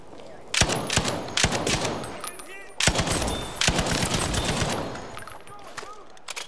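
Bursts of Type 10 machine gun fire in a Battlefield V match, rapid sharp volleys in several clusters, loud and close, with brief pauses between strings of shots.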